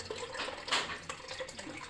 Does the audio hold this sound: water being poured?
yes